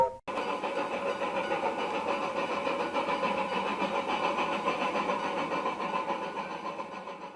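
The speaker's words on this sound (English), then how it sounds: "Sir Handel clanked away" A steam engine in a Thomas and Friends animation chugs and clanks away steadily for several seconds after a brief sharp knock, a dense, even mechanical rumble with no voices over it.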